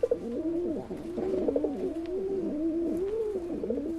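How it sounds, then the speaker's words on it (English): Soft, repeated rock pigeon coos roll on in a low, throaty rhythm, close by and steady, with no other voices. "That soft cooing sound comes from common pigeons called rock pigeons."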